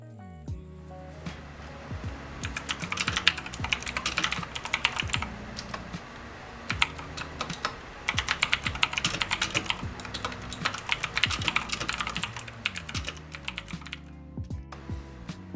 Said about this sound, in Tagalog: Here is the sound of my mechanical keyboard.